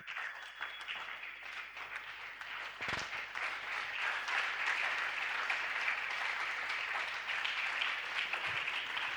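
A church congregation applauds during a midweek communion service, a dense, sustained wash of clapping that carries on steadily throughout with a faintly distant, roomy feel.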